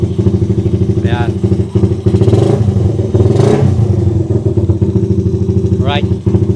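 Honda Raider 150 motorcycle with a 32mm carburetor and 30-hole atomizer, engine running steadily on a test run with a couple of short revs, loud and close, and a voice talks briefly over it.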